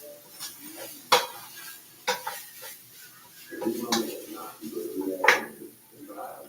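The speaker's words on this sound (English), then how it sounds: "let's stir that up" A spoon stirs Mexican lasagna filling in a pan, giving scattered metallic clinks and scrapes with a few sharper knocks against the pan and a soft sizzle underneath, close and fairly quiet.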